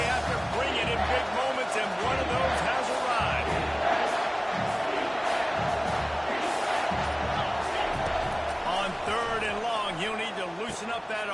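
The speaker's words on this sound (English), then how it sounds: "This crowd knows they have to bring it in big moments, and one of those has arrived." Texas vs Georgia college football stadium crowd roars loudly and continuously at a big play, a dense far-reaching din under a play-by-play commentator talking.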